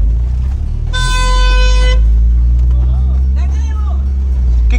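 A loud car horn blares for about a second over heavy traffic rumble, followed by a fainter honk farther off.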